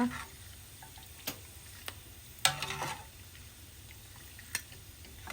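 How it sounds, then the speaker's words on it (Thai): Pork rinds crackle and pop as they deep-fry in very hot oil, a soft, steady sizzle broken by a few sharp, separate snaps, close by but fairly quiet. "ตัวหนังหมูเขาก็เริ่มแตกแล้วก็กรอบขึ้นเลย"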